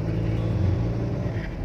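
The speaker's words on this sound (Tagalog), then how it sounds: "Linggo ngayon, pero bakit maraming sasakyan?" Steady close road traffic rumble on a city street in Cavite City, Philippines, with car engines droning and a vehicle passing, continuous and fairly loud.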